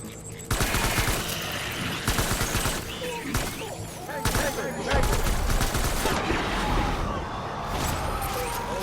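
Video game gunfire in Death Stranding: bursts of rapid shots and sustained volleys crack through a loud, dense mix of action sounds and effects, with intermittent voices underneath.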